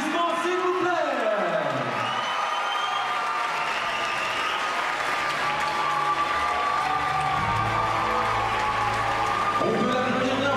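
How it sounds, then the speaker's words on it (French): A crowd applauds the Miss Saône-et-Loire 2014 winner, with steady loud clapping, whoops and cheering under music and an announcer's voice. "On peut l'applaudir bien fort."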